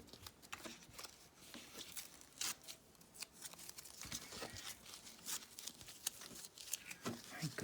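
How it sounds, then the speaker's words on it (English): Masking tape peeled off fabric stretched in an embroidery hoop, a run of short ripping and crinkling tears, close and quiet, with brief soft talk between them. "Now I go around and I remove all my tape."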